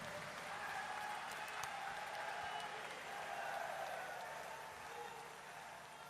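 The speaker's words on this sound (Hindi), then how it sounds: "आप एक जोरदार तालियां बजाकर बाबा जी का एक बार अभिनंदन करिए जोर से" Audience clapping for Baba ji at the inauguration of a Patanjali food and herbal park, a faint, distant, sustained patter of applause from a crowd.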